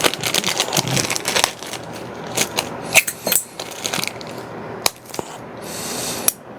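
Small screws from an FMS 64mm F-16 Thunderbird RC jet kit poured out, a rattling metallic clatter that thins into scattered sharp clicks and tinkles as individual pieces settle.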